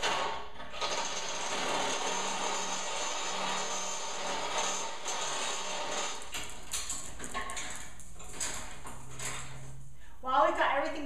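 A stepper bit (unibit) drills through a Jeep bumper, giving a steady high-pitched whine and grinding at moderate volume that runs through most of the clip, while people talk over it.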